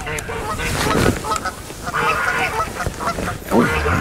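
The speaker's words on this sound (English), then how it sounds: "Noisy, aren't them geese?" Geese honk loudly and repeatedly beside a fishing lake during a carp match, a noisy overlapping racket with faint talk underneath.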